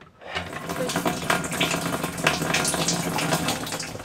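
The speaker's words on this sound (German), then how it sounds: "Wir haben wieder eine Wasserpumpe." A newly installed water pump running steadily with water rushing and splashing continuously, close and fairly loud, starting abruptly after a brief quiet moment.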